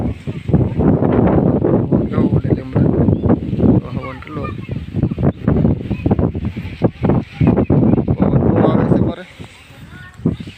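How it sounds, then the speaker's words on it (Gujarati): Strong gusts buffet the microphone in heavy, rumbling bursts outdoors on a farm during rainy weather while people talk throughout. "પવન બહુ છે"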